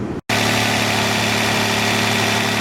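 A Toyota Camry V6 idles after a thermostat replacement, a loud, steady, close engine hum that begins after a brief gap of silence and holds an even drone with no talk.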